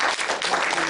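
A church congregation bursts into brief, dense applause to welcome a visiting pastor, a loud close wash of clapping lasting under a second with no talk over it.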